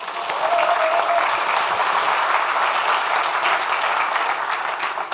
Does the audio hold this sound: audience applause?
yes